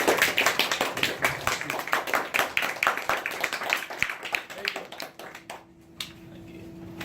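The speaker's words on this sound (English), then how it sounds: "Applause." Clapping from a small audience after a talk at an education center, distinct individual claps in quick succession that thin out and stop, leaving quiet room tone.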